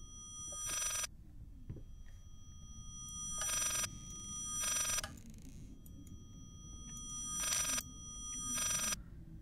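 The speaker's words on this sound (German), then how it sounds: "Ist das ein Telefon?" An old telephone rings inside the horror video game Layers of Fear, giving four loud, even bursts of electric bell ringing with short pauses between them over a low, murky ambient drone.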